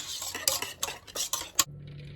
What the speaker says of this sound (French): je continue de mélanger